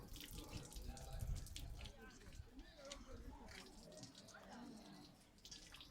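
Water runs from a newly drilled borehole tap at a primary school's opening ceremony, a steady splashing rush heard close up beneath the chatter of people talking nearby.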